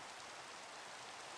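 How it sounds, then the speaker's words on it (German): Steady rainfall in Minecraft hisses as an even, continuous wash of drops, fairly faint and unbroken, with no talking over it. "Es regnet."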